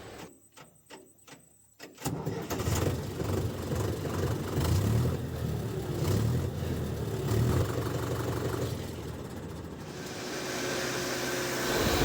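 A steady, low engine rumble of a New Holland Workmaster 105 HP tractor idles and runs continuously after a brief quieter start of faint clicking sounds.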